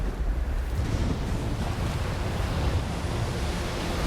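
Hurricane-driven ocean waves churn and wash in a continuous heavy roar, with wind buffeting the microphone throughout.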